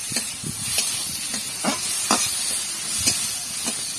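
Fried potatoes tipped into a hot pan, a continuous hissing sizzle with scattered soft scrapes and clicks of stirring throughout.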